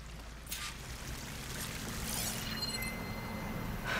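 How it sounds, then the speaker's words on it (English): A waterfall in Horizon Forbidden West rushes as a steady broadband wash of falling water, moderately loud and continuous throughout, with no talking over it. "That waterfall must be coming from somewhere."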